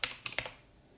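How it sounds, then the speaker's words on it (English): A PIN is typed on a computer keyboard while setting up Windows on a newly built budget gaming PC: three quick, close key clicks in the first half-second, then quiet. "And just type it in again."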